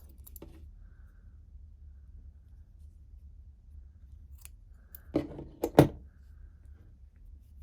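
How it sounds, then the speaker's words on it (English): Scissors snip through a crochet yarn tail in two or three quick, close cuts near the end, after a faint click at the start over quiet room hum. "And cut that tail."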